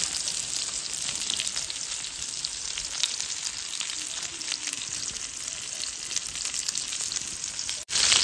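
Two fish fry in plenty of oil over a high flame, a loud, continuous crackling sizzle heard up close with a brief break just before the end.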